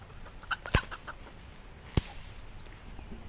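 Roosters on a small farm give a couple of short, sharp clucks about a second apart, fairly quiet against a soft outdoor background.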